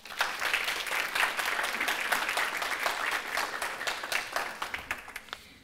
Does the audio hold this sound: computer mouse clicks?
no